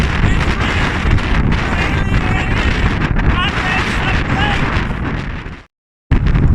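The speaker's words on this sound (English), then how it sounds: "It's very, very windy!" Loud, blustery wind on a snowy mountain climb buffets the microphone in a constant roaring rumble, cutting out briefly to silence before resuming.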